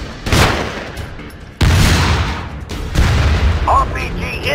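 Gunfire and explosions in the mobile shooter Frontline Commando 2: three heavy booming blasts at roughly one-second intervals, each trailing into rumbling decay, with sustained battle noise between them and a short game voice call near the end.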